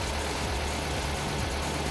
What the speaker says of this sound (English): the engine is running very smoothly, just as it did yesterday